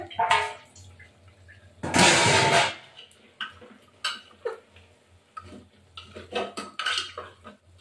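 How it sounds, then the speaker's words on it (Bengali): Chunks of potato tumble into a pressure cooker of chicken curry with one loud clattering splash, amid scattered lighter clinks and knocks of utensils against the pot. "আলুগুলো এবার দিয়ে দিলাম"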